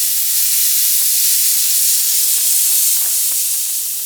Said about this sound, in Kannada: ಕುಕ್ಕರ್ ಲಿಡ್ನ ಕ್ಲೋಸ್ ಮಾಡಿ ಒಂದು ವಿಷಲ್ ಕೂಗಿಸ್ಕೊಂಡು ಸ್ಟವ್ನ ಆಫ್ ಮಾಡಬೇಕು